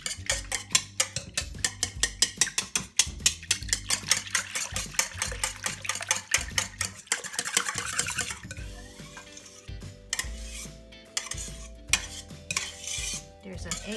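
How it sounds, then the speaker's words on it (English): A whisk beats eggs and oil into pancake batter in a bowl, giving quick rhythmic clinks and scrapes that slow and thin out later, with soft background music throughout. "Now give it a good whisk."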